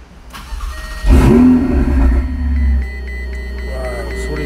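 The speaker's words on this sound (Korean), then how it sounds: "한번 시동을 한번 걸어 보겠습니다." A 2017 Ferrari 488 Spider fires up while parked: starter whir, a loud bark as the engine catches and revs, then settles into a steady rumbling idle, with a proximity sensor beeping faintly in the background.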